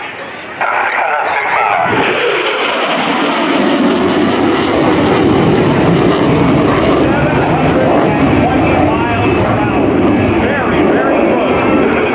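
An F/A-18F Super Hornet jet makes a high-speed low pass at the 2016 NAS Oceana airshow, a loud, sustained broadband roar that swells after a quiet start and holds steady, with an announcer talking over it.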